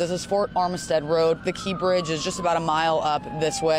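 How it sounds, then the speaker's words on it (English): A siren from an emergency vehicle racing through a road closure near a bridge collapse, its tone sliding steadily downward in the background beneath a reporter's continuous talk. "You can probably hear another siren right now."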